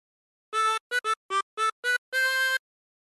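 A harmonica plays a short phrase of Yankee Doodle as seven distinct notes, six brief reedy tones followed by a longer held final note, alone and close.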